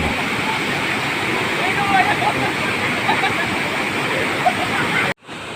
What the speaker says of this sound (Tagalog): Ang Marianum Falls ay isa sa pinakakilalang talon sa lalawigan ng Pangasinan.